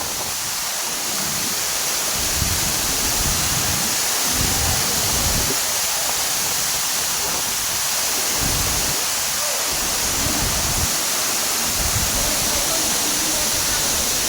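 Namaste waterfall near Dharan in Dhankuta, Nepal, a constant loud roar of falling water that fills the whole scene with broad steady rushing noise, with lower rumbling surges that come and go.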